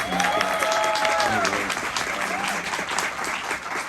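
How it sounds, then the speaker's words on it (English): Panel audience at a Sundance Film Festival session breaks into a full round of applause, dense and steady clapping throughout with faint overlapping voices and a tonal sweep early on. "Can we please give a round of applause for Nicole?"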